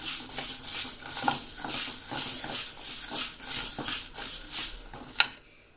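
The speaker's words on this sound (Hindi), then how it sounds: "अब आप इन उड़द को 2 से 4 मिनट फ्राई कर लीजिए।" Urad dal being stirred and fried in a hot kadhai, a steady scraping and clinking of a spoon against the metal pan in repeated strokes, with one sharper clink near the end before it goes quiet.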